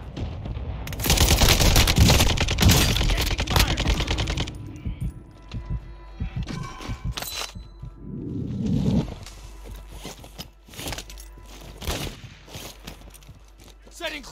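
Dense bursts of automatic gunfire in the video game Warzone 2 on Ashika Island, loud and rapid at first, then thinning to scattered shots, with in-game voice callouts heard over the shooting.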